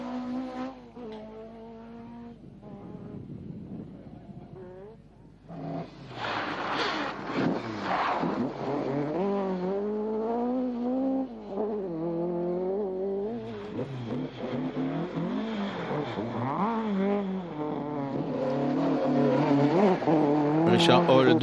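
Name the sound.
Ford Escort MK1 rally car driving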